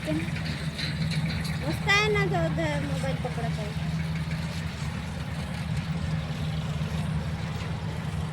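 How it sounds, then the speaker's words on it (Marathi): A chain-type combine harvester cutting rice paddy drones steadily in the background throughout, with a person speaking briefly over it near the start. "हार्वेस्टर आहे ती चैनवाली म्हणतात तिला, चैनवाली, आणि तिने धान कापणी चालू आहे"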